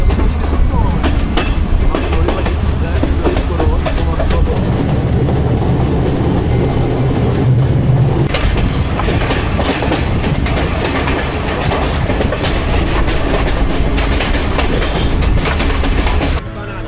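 A train runs along a railway line in Sri Lanka, filling the whole stretch with a loud, steady rumble and rhythmic clickety-clack of wheels on the rails, heard from on board.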